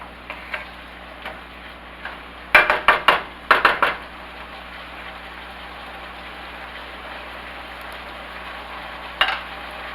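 Vegetables and celery for beef and barley soup cook in a pot, a soft steady simmering hiss with a burst of sharp clatter and stirring knocks in the middle and another brief knock near the end.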